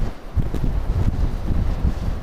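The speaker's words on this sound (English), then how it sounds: "Whoa, there's so much wind." Strong wind roars across high hills in Cyprus, buffeting a flying drone's microphone in a steady, rumbling low gust with no pauses.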